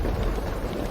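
Heavy rain falling in a steady, dense wash of noise, loud and continuous without breaks or voices.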